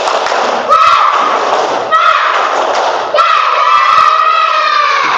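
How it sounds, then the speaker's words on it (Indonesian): A class of third graders repeats the 'tepuk semangat' chant, loud unison shouting punctuated by rhythmic group clapping and thumps over three bursts, close up in the classroom. "Sekali lagi, tepuk semangat."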